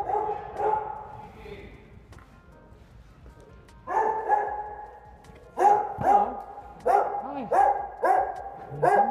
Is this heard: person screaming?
no